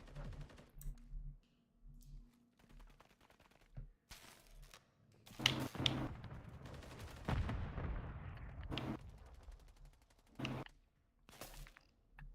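Gunfire in the video game Modern Warfare 3, with scattered sharp shots and bursts, some close and loud, others fainter, separated by quieter gaps.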